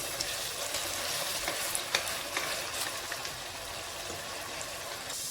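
Garlic, ginger and onion paste for mutton masala sizzles steadily in hot oil, a continuous close frying hiss with occasional soft stirring clicks and no talk.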